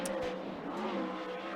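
A 360 sprint car roars around the Skagit Speedway oval during hot laps, a loud, high engine wail held steadily, with crowd and track ambience in the background.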